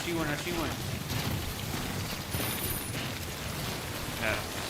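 Steady rain in the video game Death Stranding hisses throughout, a dense wash of patter with a few louder bursts, while a voice talks over it.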